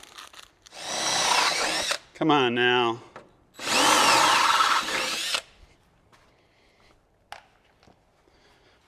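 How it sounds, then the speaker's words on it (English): A power drill whines loudly in two long bursts, enlarging holes in metal to rivet-nut size while fitting Motobilt rock sliders on a Jeep, separated by a brief spoken phrase, then falls quiet apart from faint clicks and handling noise. "Now we will open these all up to the size of the nutsert"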